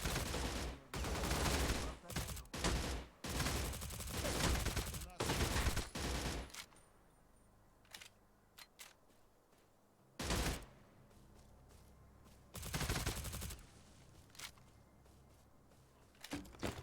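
Suppressed SIG SG 550 rifle firing in rapid bursts and single shots, loud close reports clustered in quick strings with short pauses, then a few sparse isolated shots toward the end.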